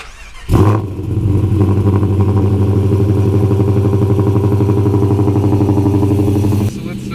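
A Dodge Charger R/T engine cranks and catches with a loud burst, then settles into a steady, close, lumpy idle with a rhythmic pulsing chop that carries on until a sudden drop near the end.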